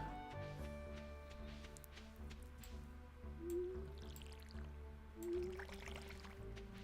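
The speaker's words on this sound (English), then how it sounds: "I need to water a lot" A watering can waters crops in Stardew Valley, giving two soft, wet gurgling splashes a couple of seconds apart, quiet over low game background music.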